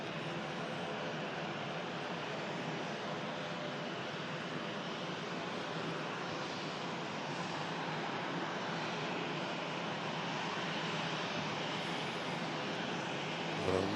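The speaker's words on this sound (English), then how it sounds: "Virgin 330, Miss England taxiing out for Atlanta." A Virgin Atlantic Airbus A330 taxis out at Manchester Airport, its engines a faint, even whine and rumble held steady throughout.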